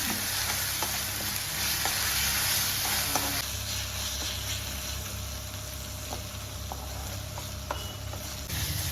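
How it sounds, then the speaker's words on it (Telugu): Ginger garlic paste fries in a pan for a methi paneer dish, giving a steady close sizzle with occasional scrape and stir clicks throughout, no voices. "ఇప్పుడు ఇందులో 1 స్పూన్ అల్లం వెల్లుల్లి పేస్ట్ అని, ఇది బాగా ఫ్రై చేసుకోండి."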